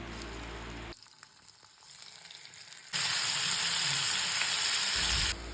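Squid sizzles in hot oil with curry leaves in a pan, a steady frying hiss that drops to a softer crackle, then surges into a loud, bright sizzle for the last few seconds, with no voices.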